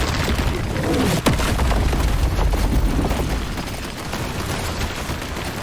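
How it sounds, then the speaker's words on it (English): High explosive grenades blast in the video game Deep Rock Galactic, a dense run of booming, rumbling explosions with a sharp crack near the start, loud and continuous. "our grenades now, when they explode, they cover a lot of ground"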